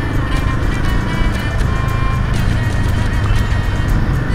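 Dense road traffic in the Himalayas surrounds a rider on a motorcycle, a loud continuous wash of engines and road noise with faint rattling clatter throughout.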